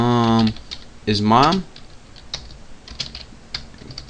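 Quick computer keyboard typing, a handful of sharp light key clicks in an irregular run after someone speaks briefly.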